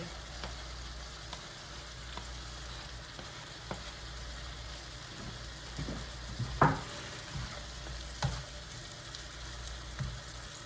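Sausage sizzles and fries in a pan with cooked tomato for paella, a soft, steady crackle with occasional louder spits and stirring clatters, fairly quiet and close.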